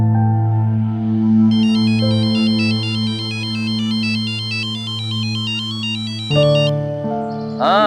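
A phone rings during an outgoing call, a steady repeating electronic ringtone melody that runs loud and close for several seconds before cutting off, followed by a short rising chime.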